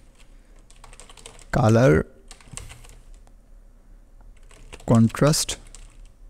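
Computer keyboard keys typed in a short burst while entering a Google search, soft rapid clicking under a voice speaking before and after the typing.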